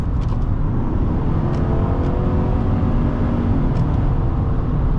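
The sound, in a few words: 2025 GMC Sierra 1500 SLT truck driving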